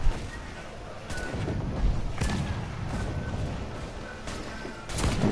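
Ship cannons fire in the video game Assassin's Creed Black Flag, with a few sharp booming shots spaced apart over a low rumbling background.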